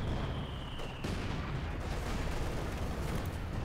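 An artillery counter barrage in Company of Heroes 2 rumbles as a continuous heavy, noisy roar of distant shelling. A thin tone fades out early, and no voices are heard.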